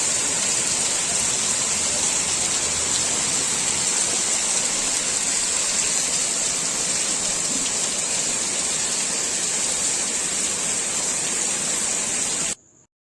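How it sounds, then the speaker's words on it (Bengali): Steady, dense downpour of heavy rain, a continuous loud hiss with no voices, cutting off abruptly at the very end. "এরকম ঝমঝম করে বৃষ্টি হচ্ছে। অনেকদিন পর এত জোরে বৃষ্টি আসলো।"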